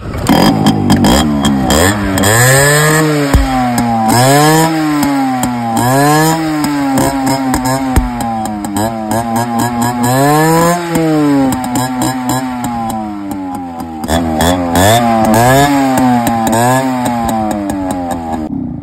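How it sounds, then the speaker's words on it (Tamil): A Yamaha RX100 motorcycle engine starts and runs loud and close, revving up and down repeatedly in rising and falling bursts throughout. "நம்ம பைக் தான் சார் இப்போ ஸ்டார்ட் பண்ணி பார்ப்போம்"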